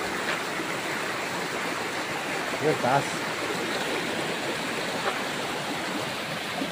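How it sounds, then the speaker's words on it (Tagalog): A forest waterfall pours steadily close by, a dense, even rush of water that continues throughout. Someone speaks briefly under the roar. "Dito na yung falls."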